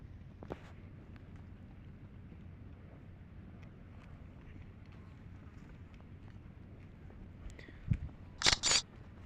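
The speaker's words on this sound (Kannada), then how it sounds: "ಇಲ್ಲೇ ಒಂದು ಫೋಟೋ ಹೊಡ್ಕೊಂಬಿಡೋಣ ಸ್ನೇಹಿತರೆ" A camera shutter firing in the Bus Simulator Indonesia game, a crisp double click near the end after a faint click, over a low steady engine-like rumble.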